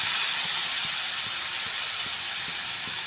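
Boiled jackfruit and potato go into a hot pan with spices and sugar for a Bengali prawn dish, giving a continuous steady sizzle and hiss that fades slightly over a few seconds, with faint low clicks underneath.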